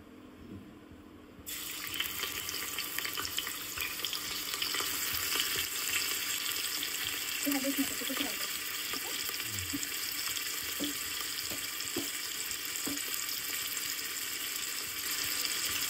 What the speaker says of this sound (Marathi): आता मी याच्यामध्ये अद्रक लसूण पेस्ट टाकत आहे